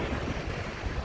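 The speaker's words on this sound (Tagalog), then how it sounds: "Dito kami ngayon sa tabing dagat ng Repulse Bay." Sea waves wash steadily onto the beach at Repulse Bay, a broad continuous surf roar with wind buffeting the microphone, no voices.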